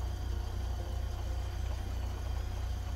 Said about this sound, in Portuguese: Olha o barulho do motor.